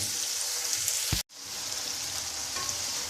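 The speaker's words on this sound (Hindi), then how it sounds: "इसको 4 से 5 मिनट जो है वो फ्राई करेंगे" Chicken browning in hot oil in a pan for pulao, a steady loud sizzle and crackle broken by a brief sudden gap partway through, then the frying resumes evenly.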